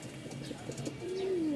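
A pigeon coos once in a short, soft call against low background noise, among a loft holding many pigeons.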